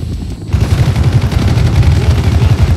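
Sustained automatic gunfire in Call of Duty: Black Ops, a loud, close, rattling burst that runs continuously after a brief quieter lead-in.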